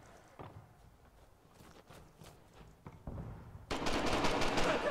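Pistol fire in a competitive video game match rings out in several sharp shots, then a denser burst of loud gunfire swells over the final second with no talk.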